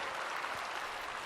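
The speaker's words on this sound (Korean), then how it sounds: "여러분 박수 한번 쳐주세요" A church congregation clapping together in sustained, even applause, a dense wash of hands filling the hall for a moment at moderate distance.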